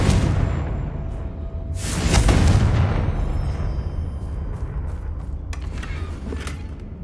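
In the video game Hogwarts Legacy, a Confringo blasting spell fires with a rushing whoosh into a booming explosion, followed by a long rumbling, crackling tail and a few smaller bursts.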